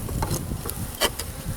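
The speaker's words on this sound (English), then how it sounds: "There's a little worker bee right there." A worker honeybee buzzes at a hive during the installation of package bees, a close, scratchy drone with faint rustling and small knocks, with no voices.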